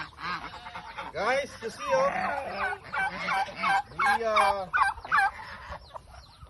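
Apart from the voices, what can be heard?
chickens clucking and ducks quacking at feeding time on a farm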